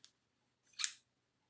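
Pair of scissors handled briefly, a faint click at the start and then a single crisp metallic snip close by.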